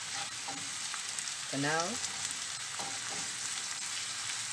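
Steady hiss of food frying in a non-stick granite frying pan while breadfruit and saltfish cook, a constant close sizzle with a brief voice speaking over it near the middle.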